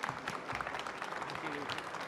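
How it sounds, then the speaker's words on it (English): Conference audience applauding the speakers at the close of a session, a steady, dense clapping that runs throughout with a voice speaking over it. "Another big round of applause to our speakers."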